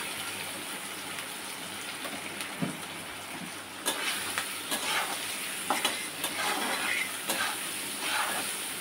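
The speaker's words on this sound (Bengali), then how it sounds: "আবার নাড়াচাড়া করে নিচ্ছি।" Ground coriander, cumin and Kashmiri chili powder fry in a pan while being stirred, producing a steady close sizzle broken by scraping stirs and small clacks that grow louder in the second half.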